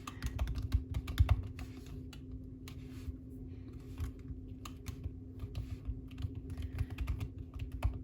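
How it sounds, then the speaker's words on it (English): Fingers type on a computer keyboard up close while study flashcard terms are entered, giving a quick irregular patter of key clicks over a low steady hum, with no talking. "I'm gonna type in Euro 3."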